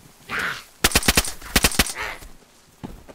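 Gunfire in DayZ, two quick bursts of four or five close sharp automatic shots, with brief muffled sounds before and after.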